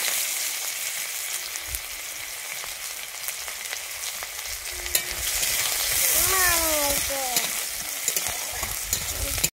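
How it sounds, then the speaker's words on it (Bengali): Chopped onion sizzles steadily in hot oil with a dry chilli and nigella seeds, a continuous close frying hiss with occasional stirring clatter and a brief squeaky sound near the end. "আমি এবারে দিয়ে দিচ্ছি কুচানো পেঁয়াজটা।"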